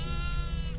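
Single goat bleat, a short loud wavering cry heard up close within a game, with no talking over it.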